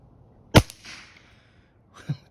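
A 1984 Benjamin Model 342 pump air rifle fires once with a sharp close crack, then a faint hit sounds downrange, followed by a second softer snap.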